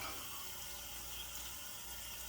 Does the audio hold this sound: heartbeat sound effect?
no